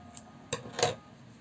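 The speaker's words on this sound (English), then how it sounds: "Now I will cut this" Scissors snip crochet yarn while a Christmas ball ornament is being made, giving two quick, close, faint cuts a fraction of a second apart, with no talking.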